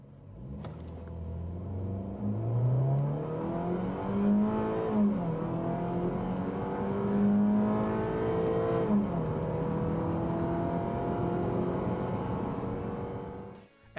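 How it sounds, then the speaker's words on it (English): A 2010 Chevy Equinox's fuel-efficient inline-four engine accelerates steadily, its pitch climbing through the gears with a brief dip at each shift, heard close and moderately loud from inside the cabin with no talking. "While the fuel-efficient inline four's acceleration isn't blistering,"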